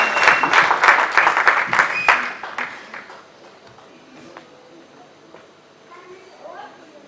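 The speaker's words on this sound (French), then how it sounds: "Während sie kommen, werden wir für sie applaudieren." A church congregation claps together, a dense burst of applause that fades after a couple of seconds into quiet room tone with faint scattered movement.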